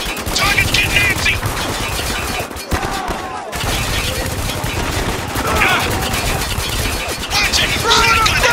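Sustained gunfire and bursts of shooting in the video game Spec Ops: The Line, loud and dense throughout, with game characters shouting over the combat.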